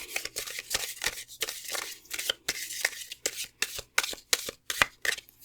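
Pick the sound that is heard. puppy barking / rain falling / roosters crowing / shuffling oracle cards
shuffling oracle cards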